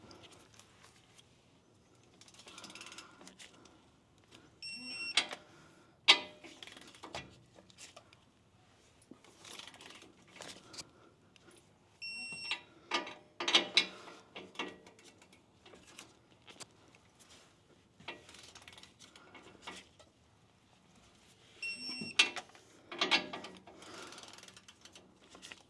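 A ratchet tightening leaf spring bolts on a Chevrolet Silverado or GMC Sierra pickup: intermittent bursts of quick metallic clicking, separated by quiet stretches of faint handling noise, close and fairly soft.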